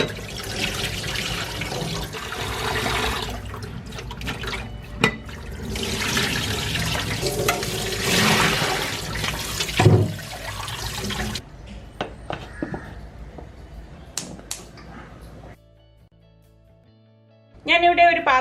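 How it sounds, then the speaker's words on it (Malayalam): Cut tapioca is washed and drained, with running water splashing and gurgling loudly for several seconds, then quieter drips and clinks while someone speaks in the background. "അപ്പം ഞാനിനി ഇത് കഴുകി ഡ്രെയിൻ ചെയ്ത് എടുത്തിട്ട് വരാം."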